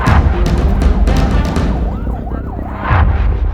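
Heard from inside a moving ambulance, a siren wails up and down in a rising and falling sweep, mixed with loud engine rumble and cabin rattling.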